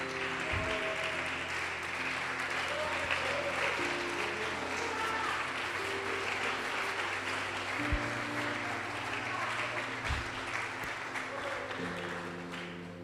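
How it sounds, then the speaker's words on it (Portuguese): A church congregation claps and praises together, a continuous wash of applause mixed with voices, held at a moderate level for the whole stretch with a few low thumps. "Pode aplaudir e glorificar o Senhor Jesus."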